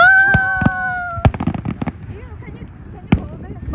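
Victoria Day fireworks burst outdoors in several sharp bangs with crackling between them, while a whistling rise fades early and excited voices talk nearby.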